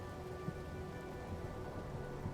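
Steady rain falls during a storm on an alien planet in No Man's Sky, a dense, even hiss of drops with faint low rumble, continuous and moderately quiet with no talk.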